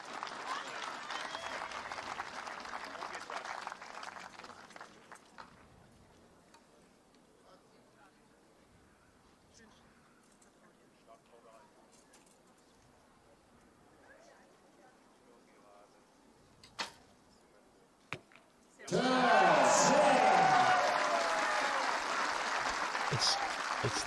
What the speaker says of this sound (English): It's nice to hear the home crowd whenever a 10 gets shot